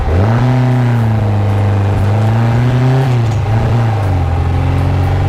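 A 1974 VW Super Beetle with a 2054cc stroker engine and 44 carburetors revs steadily, its loud air-cooled drone rising and falling in pitch as it holds high RPMs, with no talking over it.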